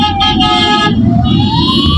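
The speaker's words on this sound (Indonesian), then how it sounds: "Ini ambulan nih ya, semuanya kayak serine ya." An ambulance siren wails loud and close on a road, its steady electronic tone sliding in pitch over rumbling traffic noise.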